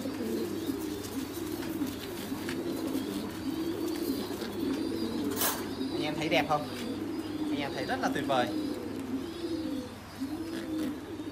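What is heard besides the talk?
white Mimat pigeons cooing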